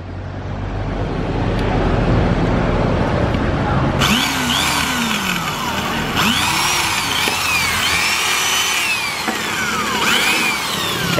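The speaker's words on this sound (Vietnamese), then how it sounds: "Con này giá 500k, mũi khoan 10 ly đây." A Japanese electric hammer drill with a 10 mm bit being tested, starting with a loud steady whine, then louder hammering with pitch sweeps as it spins up and down.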